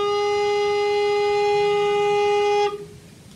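A recorder holds one steady, bright note played with a tense, closed throat and higher air pressure. The tone is loud and even for under three seconds, then cuts off into a near-silent room.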